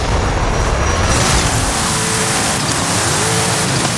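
A hardcore off-road car in Forza Horizon 5 during a cross-country race, giving a loud, continuous engine roar with rumbling terrain noise and no voices.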